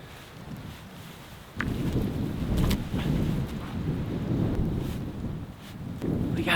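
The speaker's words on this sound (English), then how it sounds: "That wind is definitely blowing over here." Gusty wind blows outdoors in the South Texas Hill Country, a steady low rumble of buffeting across the microphone that swells louder after the first second and keeps roaring with no talk.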